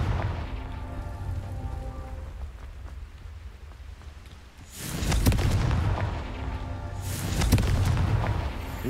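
The fire-charged Confringo spell in Hogwarts Legacy, two heavy booming explosions a couple of seconds apart, each with a crackling, rumbling tail, loud and close after a quieter opening.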